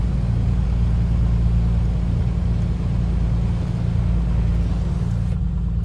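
Piper Comanche 250 piston aircraft engine in the A2A flight simulator, running steadily at a low, even drone with a continuous rumble throughout, close and loud, no voices.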